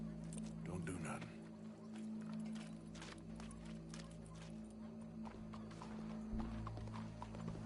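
Horse hooves clip-clop steadily in Red Dead Redemption II, a moderately loud, continuous trotting rhythm carried under ongoing talk with faint rumbling game ambience.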